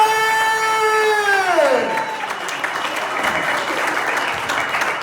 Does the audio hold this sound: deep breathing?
no